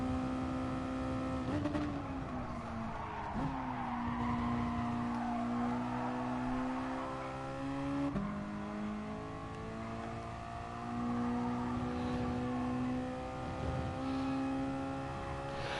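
A race car engine in the GT Sport video game drives a lap, its loud sustained tone climbing and dropping through gear shifts and throttle changes, continuous throughout with no talk.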